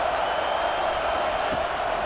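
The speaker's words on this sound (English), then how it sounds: "And the crowd coming to life here, trying to help this defense down in the red zone." Steady, dense roar of a large American football stadium crowd cheering as the defense plays in the red zone, a continuous wash of voices with a slight swell near the middle.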